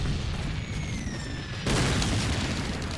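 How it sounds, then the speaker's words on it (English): Grenade explosions in the World War II shooter game Call of Duty 2 give a loud, dense rumbling boom that surges again partway through, with no talk. "Just threw a lot of grenades."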